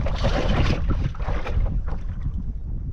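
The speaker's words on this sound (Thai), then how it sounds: "ลมแรงมากเลยครับ" Strong wind blowing outdoors by the water during a fishing outing, a loud, continuous low buffeting roar across the microphone that eases slightly toward the end.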